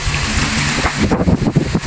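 An Asahi stand fan running at its lowest speed setting, with a sagging suspension that causes vibration, gives a steady, close whooshing airflow that turns into a pulsing, rattling throb in the second half.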